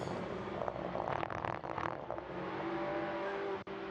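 Ferrari Challenge race cars brake at Mugello, including car 128 driven by Christian Kinch, with a loud, steady engine roar, a rough burst as the engines shift under braking, then a smooth sustained engine tone.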